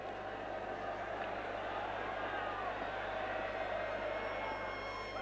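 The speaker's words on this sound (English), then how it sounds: "he got that great roaring crowd" Steady crowd roar from a 1977 Australia vs England cricket test match, a dense continuous wash of many voices held at an even level throughout, fairly distant with no single voice standing out.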